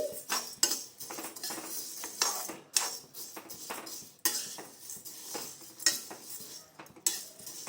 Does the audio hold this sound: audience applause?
no